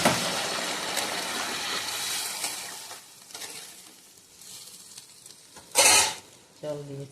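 Paneer curry being stirred in a pan, a soft sizzle under spoon scrapes, fading toward the end before a sharp metallic clang and a short burst of speech.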